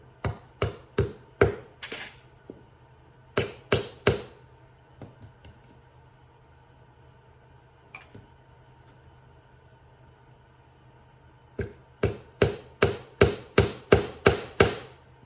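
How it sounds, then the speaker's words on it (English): Sharp magnetic tack hammer taps on upholstery tacks for an MG TF seat cushion come in quick bursts of several blows, with long quiet pauses between, close up and crisp. "I've got my little magnetic tack hammer, maybe. There's a tack."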